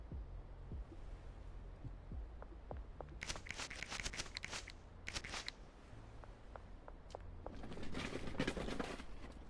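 A computer keyboard sits close to the microphone, giving quiet, irregular key clicks that come in short bursts with pauses between them over a faint background hum.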